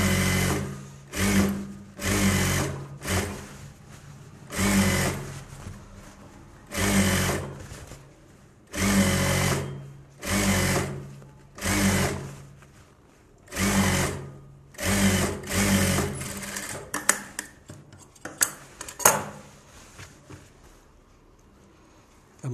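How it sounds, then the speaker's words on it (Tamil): A sewing machine stitches along the folded edge of a lining for a Bharatanatyam dance costume, running in about a dozen short, close bursts separated by brief pauses, with no talking. "லைனிங்கை மடிச்சுட்டு அந்த எட்ஜில் தையல் போட்டுக்கிறோம்."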